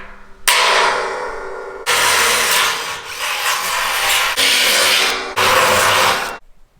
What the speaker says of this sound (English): Let's go ahead and drill our holes.